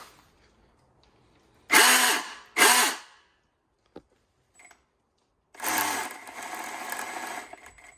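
Milwaukee M18 cordless chainsaw revs in two short bursts, pauses with a couple of faint clicks, then runs again in a longer sustained whine, close and fairly loud, no talking.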